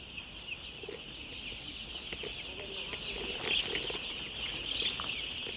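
Chicks in an automatic poultry farm shed keep up a dense, high-pitched chorus of peeping, with a steady ventilation hum and scattered faint clicks below it.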